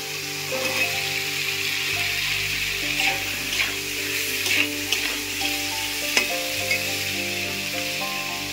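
Drumstick stems drop into a pan of softened tomato and fry with a steady, close sizzle, broken by occasional stirring clicks and scrapes.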